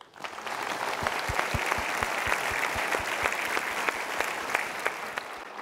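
An audience at a stage event claps steadily in sustained, dense applause that holds at an even level for several seconds without talk over it.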